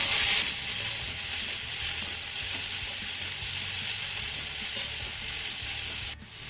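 Chopped cabbage, carrot and capsicum sautéing in a pan give a steady, even sizzle throughout, close and moderately loud, with faint mechanical clicks underneath and no talking. It ends abruptly.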